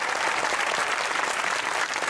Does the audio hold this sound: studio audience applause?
yes